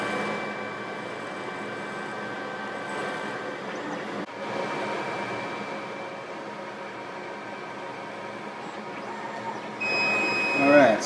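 A laser cutter working through quarter-inch thick acrylic for cam latch back plates, a steady hum with faint high tones, running evenly and at a moderate level with no break.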